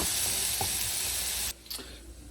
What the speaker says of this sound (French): Quand il n'y a plus d'eau dans les pommes, on va attendre que ça grille dessous.